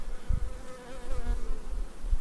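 Bees buzz loudly and continuously around a beehive, close and steady, with a few low thumps and no voices.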